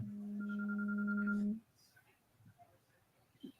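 A telephone rings with a loud steady electronic tone for about a second and a half, then cuts off, leaving faint room noise with a brief murmur of speech afterward.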